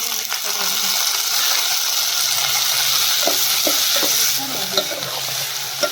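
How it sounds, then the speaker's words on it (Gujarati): Spiny gourd and onion curry fries in oil with a loud, continuous sizzle, while a spoon scrapes and clinks against the pan in irregular strokes toward the end. "આ રીતે તેલમાં શેકાઈ જાય ને મસાલો આપણે નાખતા દઈએ."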